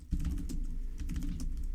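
Computer keyboard typing router configuration commands, a quick close-up run of irregular key clicks and taps, fairly soft, with no talking.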